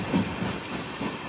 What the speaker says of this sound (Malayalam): ട്രെയിൻ ഇപ്പോൾ വൈദീശ്വരം കോവിൽ സ്റ്റേഷനിലേക്ക് എത്തുകയാണ്.